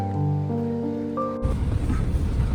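Strong storm wind blows around an evening temple grounds as rain approaches, a rough roaring rush of gusts buffeting close by that cuts in abruptly after a stretch of music.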